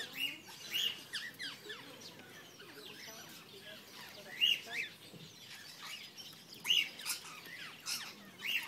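Lorikeets and other birds in an outdoor esplanade aviary, scattered high chirps and shrill calls repeating every couple of seconds over a soft murmur of background voices.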